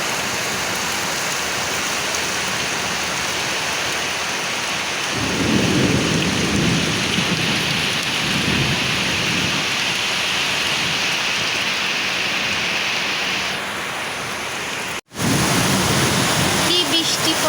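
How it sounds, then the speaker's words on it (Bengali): A storm with heavy rain lashing outside a window, a loud constant roar of downpour broken by deep rolling thunder rumbles, one strong peal early and another soon after, with a brief cut near the end. "অনেক ঝড় বৃষ্টি হচ্ছে, আমাদের এই জানালা দিয়ে ঝড় বৃষ্টি হচ্ছে"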